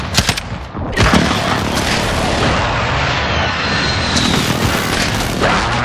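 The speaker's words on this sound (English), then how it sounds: "Precision airstrike, ready on your mark. Phoenix 3, strike and bomb." A precision airstrike in a first-person shooter video game sets off a loud, continuous roar of explosions and heavy gunfire that fills the whole stretch with rumbling booms.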